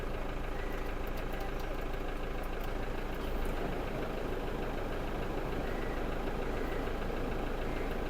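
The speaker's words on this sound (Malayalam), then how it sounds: "ഇനി AC കൂളിംഗ് നോക്കാം" Air conditioning runs inside a Toyota Fortuner 4x4 as a steady, even blower hum with the engine idling underneath, constant and close throughout with no talking.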